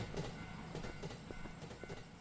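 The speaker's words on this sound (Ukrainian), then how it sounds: "Де той потяг? А, он він." A train pulls into a station in the video game Teke Teke, with rhythmic clickety-clack wheel beats over a dull rolling rumble. It is fairly close and steady, and no one talks over it.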